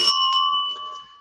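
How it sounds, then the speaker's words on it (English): A tuneful bell opens a Rotary Club of London meeting: a bright ring struck once near the start, then a couple of lighter follow-up tings as its clear, sustained tones fade out over about a second. "I'll start the meeting in our traditional way with our tuneful bell."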